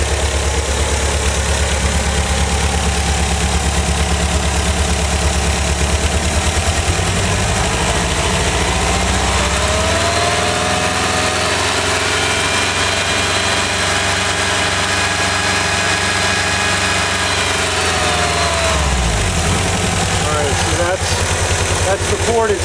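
1985 Volkswagen Vanagon engine idling roughly, then revved into a sustained higher drone for several seconds before dropping back to a lumpy idle, recorded close to the running engine.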